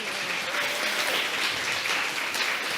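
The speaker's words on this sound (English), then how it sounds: "Let's give them an applause, please." Steady audience applause fills a gala hall, a dense continuous wash of many hands clapping at even loudness throughout.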